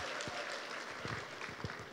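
A seminar audience applauds in a broad, hissing wash of claps, fairly quiet and continuous, with a few low thumps scattered through it.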